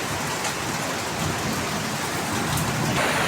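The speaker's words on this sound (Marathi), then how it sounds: "भलताच पाऊस पडतोय" A heavy Konkan monsoon downpour roars in a steady, dense wash of rain hitting surfaces close by, unbroken and loud with no voices.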